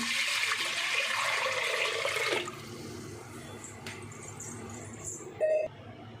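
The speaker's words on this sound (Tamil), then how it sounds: "அதே டம்ளரில் ஆறு டம்ளர் தண்ணி எடுத்துருக்கோங்க அதை சேர்த்துக்கலாங்க" Water poured from a tumbler into a cooking pot for sambar rice splashes in a steady stream for about two seconds, then gives way to quiet kitchen background with a short beep near the end.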